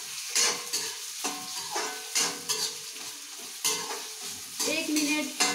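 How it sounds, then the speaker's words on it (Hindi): Potato sticks for french fries fry in a pan with a close, bubbling sizzle, while bursts of stirring and scraping recur roughly every second. No one speaks. "इसको मैं आलू को पहले भून लेती हूँ"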